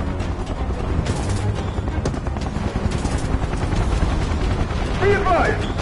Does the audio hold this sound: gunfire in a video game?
yes